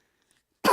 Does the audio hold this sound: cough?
yes